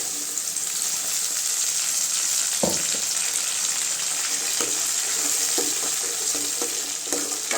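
Tomatoes and onions sauté in a pan for a spicy brinjal curry, giving a steady close sizzle with scattered spoon scrapes and taps and a sharper knock partway through.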